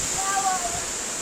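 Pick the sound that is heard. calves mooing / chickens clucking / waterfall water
waterfall water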